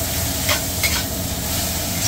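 Onion and carrot stir-frying in a wok, with a steady loud sizzle and a few scraping stirs over about two seconds, close and continuous with no talking.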